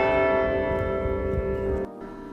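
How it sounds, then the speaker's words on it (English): Bells of the 172-foot Morehead-Patterson Bell Tower, built in 1931 on the UNC Chapel Hill campus, ring with a loud, sustained, resonant tone that hums on for about two seconds before cutting off abruptly. "Now, it is a functioning bell tower."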